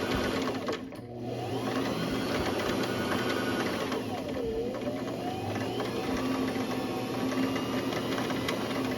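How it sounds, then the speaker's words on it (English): A beginner's sewing machine winds thread onto a bobbin with a steady, continuous motor whir and mechanical hum lasting throughout, with a brief dip near the start. "you can just keep on winding the bobbin until it's done"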